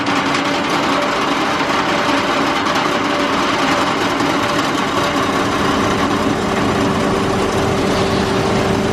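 A Buschhoff mobile feed mill making cattle feed runs continuously, a loud steady mechanical drone with a constant hum and whine, unbroken for the whole stretch.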